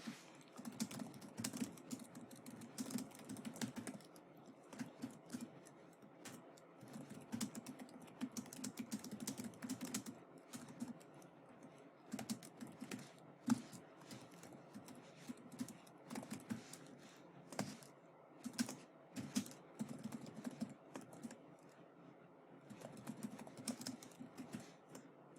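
Python code being typed on a computer keyboard: steady, continuous runs of close, fast key clicks with occasional louder taps, with no talking.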